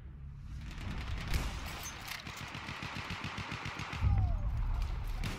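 Automatic gunfire in the PC video game Battlefield 1, a rapid even burst of shots with a second loud burst near the end, steady battle noise underneath and no talk.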